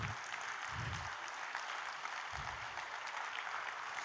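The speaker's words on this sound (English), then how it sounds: "Let us all give a big round of applause to them." Continuous, fairly faint audience clapping for the accompanying artists of a music and meditation session at Hitex, with a few low thumps mixed in.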